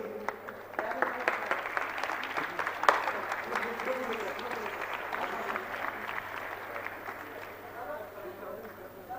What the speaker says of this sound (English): Big round of applause for both the stalwarts